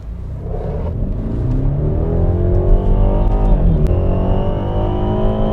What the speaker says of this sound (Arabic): العربيه اللي معانا النهارده هي 330 بي ام دبليو 2016، بتطلع هي طبعا 2000 سي سي